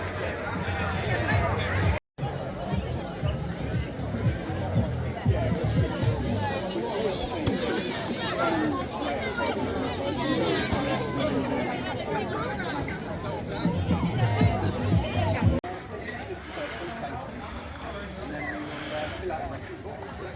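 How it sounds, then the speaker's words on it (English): A large outdoor crowd murmurs and chatters at the start of the Sunninghill wheelbarrow race, a steady babble of many voices with occasional nearer talk and a brief dropout partway through. "Quite a crowd, and they'll be starting off down here this way."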